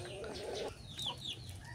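Chickens cluck softly and steadily nearby while drinking, with a drawn-out low call at first and then brief higher chirps over a quiet background.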